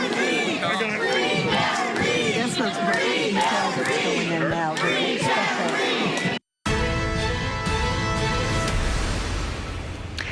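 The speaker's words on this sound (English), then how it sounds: "Growing crowds outside the courthouse have been hard to ignore in the case of defendant Karen Reed" Crowds gathered outside a courthouse during a trial, a dense roar of many voices shouting and cheering, loud and continuous, broken by a brief gap before a steadier murmur with a voice over it.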